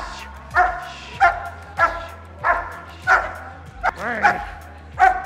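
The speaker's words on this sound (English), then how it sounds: "He just needs to become more clear in the barking." A protection dog barks repeatedly in sharp, evenly spaced bursts during bite training with a decoy, close and loud, with a faint whine between barks.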